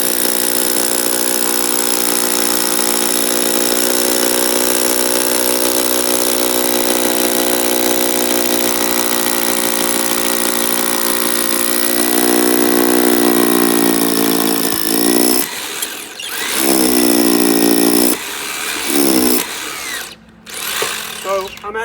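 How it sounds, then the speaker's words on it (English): Hammer drill boring into brick and mortar while building a ledger, a loud, steady motor whine with rapid pounding, droning for a long stretch before stopping and restarting in short bursts near the end. "It's twisting, but it's also pounding. That's why it's called a hammer drill."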